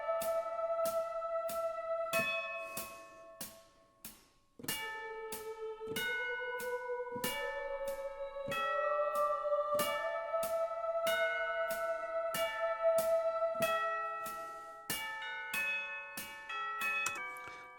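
Synthesized bells in a high-pitched musical arrangement ring out as a series of struck, chiming tones that sustain and overlap. They run in a steady melodic rhythm, with a brief gap near the start before the bells resume, and no voices.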